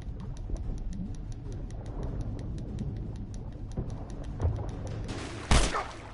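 Gunfire in The Last of Us Remastered: a rapid, even patter of distant shots crackles steadily, then a single louder, closer bang rings out near the end.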